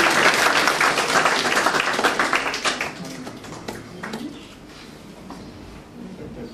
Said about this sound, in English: maybe we should be applauding to this